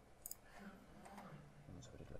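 A computer mouse clicks sharply a couple of times during a web page builder tutorial, the brief clicks sitting under quiet speech.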